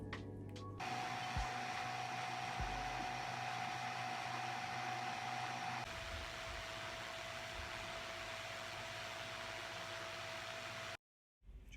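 A DJI drone fitted with Master Airscrew propellers spins up into a steady, high-pitched whirring hum that holds for about ten seconds before cutting off.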